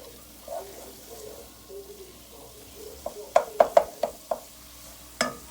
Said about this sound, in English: mix all that in